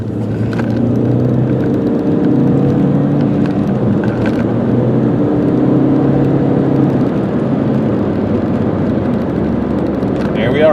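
A 2000 VW Passat cruising near 60 mph, a steady low road and engine drone with tyre rumble heard from inside the cabin, continuous and even throughout.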